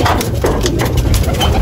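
A racing pigeon coos repeatedly up close in soft, rhythmic bursts over a busy background of other bird noise.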